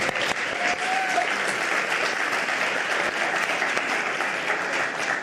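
An audience at an improv session on social engineering at a security conference breaks into dense, steady applause that carries on for about five seconds at an even level, with no speech over it.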